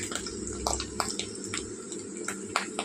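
Fish roe fritters, small and flattened, frying in a pan of oil over low gas, a steady broadband sizzle with scattered sharp pops and crackles recurring throughout, close and fairly loud, with no talking.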